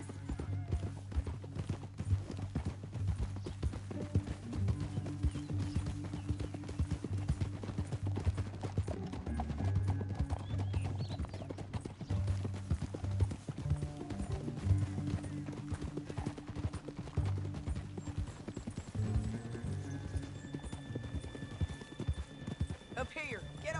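Steady clip-clop of horse hooves galloping in Red Dead Redemption 2, continuous and rhythmic with an occasional whinny, mixed with game music and characters talking over it.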